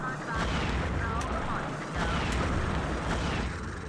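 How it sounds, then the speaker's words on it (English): Cannons fire on the Flying Dutchman's ship in the video game BFBB. Heavy booming blasts and rumbling repeat under steady noisy game sound, while someone talks over them. "we have to activate the cannons on the Flying Dutchman's ship"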